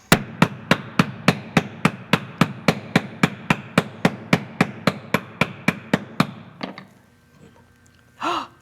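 Hammer striking a metal bangle bracelet, a steady run of about twenty evenly spaced, ringing blows that are close and loud, then silence and a faint sigh-like breath.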